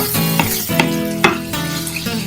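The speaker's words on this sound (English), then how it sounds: "I'm going to go ahead and put that entire onion." A large, finely chopped onion goes into hot oil and fries with a steady, close sizzle, broken by a few sharp stirring clacks.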